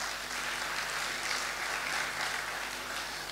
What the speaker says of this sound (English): Can you please clap for our judges?